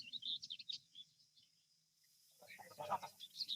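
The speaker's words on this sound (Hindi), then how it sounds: "बसंत की शुरुआत में ये रीड बेल्ट्स पक्षियों की अनोखी आवाजों से गुलजार हो उठती हैं।" Birds call from reed belts along a shallow lake shore in north-eastern Germany in early spring, faint high chirps and twitters coming and going, with a brief fuller chattering burst near the end.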